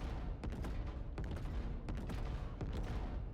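A spaceship cannon in the Star Citizen game fires a rapid, dense volley of heavy booming shots, continuous and loud with sharp repeated bursts over a rumbling bed.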